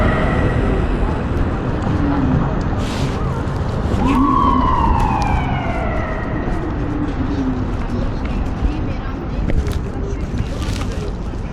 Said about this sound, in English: There's already a fire truck over there, and now the ambulance just joined in.